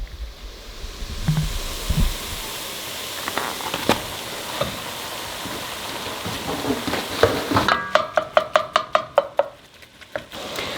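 Ground turkey browns in a hot pan and is stirred, a loud steady sizzle with occasional scrapes, ending in a quick series of sharp clicking taps.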